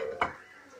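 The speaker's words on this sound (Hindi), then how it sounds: "हमने प्याज डाल दी ऑयल में" Chopped onions dropped into hot oil in a pan while cooking bottle gourd sabzi, a single brief close splash and hiss that quickly fades.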